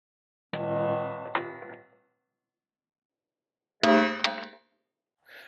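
A Trijicon RCR enclosed red dot optic dropped from shoulder height onto a hard surface: a sharp metallic clang with a ringing tail and a second hit, then a pause and another clanging impact, close and distinct with no talking.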